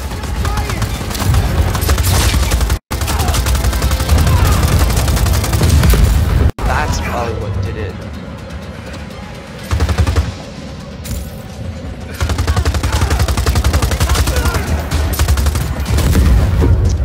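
Dense rapid gunfire and explosions from the Just Cause 4 video game, loud and nearly continuous with brief gaps, with a player's voice talking over the shooting.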